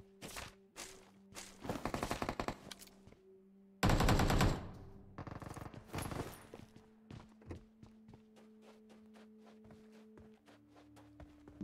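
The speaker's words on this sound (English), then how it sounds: "I got my AK." AK rifle gunfire in the video game PUBG Mobile, rapid automatic bursts of sharp cracks in several loud volleys, with scattered single shots and thumps between them.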